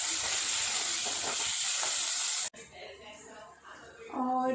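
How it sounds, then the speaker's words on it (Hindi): Potato pieces frying in a pan with only turmeric and salt give a loud, steady sizzle for a couple of seconds, then cut off abruptly to quieter kitchen sounds and a brief voice. "आलू में सिर्फ हल्दी और नमक डाल के ही फ्राई कर लूँगी।"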